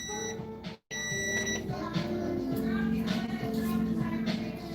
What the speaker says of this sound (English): your timer's going off